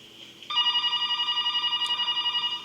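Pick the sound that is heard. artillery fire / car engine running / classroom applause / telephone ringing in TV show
telephone ringing in TV show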